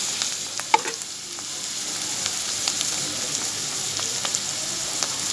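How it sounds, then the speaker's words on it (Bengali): A blend of garlic, ginger-cumin, coriander and chili pastes fries in a pan with turmeric and salt, giving a steady soft sizzle with a few light scrapes and taps from stirring. "এবার মশলাটাকে আমি ভালো করে কষিয়ে নেব।"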